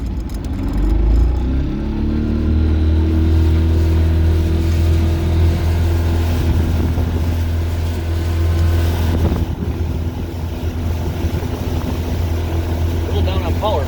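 A vintage barn-find boat's engine, running for the first time in twenty years, drones loud and steady as it is pushed from idle toward planing speed, with wind and water noise and a voice heard over it.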